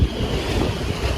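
Strong wind blows across a harbour during a storm, with surf and waves churning. A dense, steady roar fills the whole short stretch, loud and close, with gusty buffeting on the microphone and no voices.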